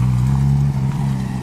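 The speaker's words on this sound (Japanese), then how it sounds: "あ、ポルシェが入ってきた。" A Porsche driving into a gathering of Honda cars in Kyoto, a steady low engine hum close by as it rolls in at low speed.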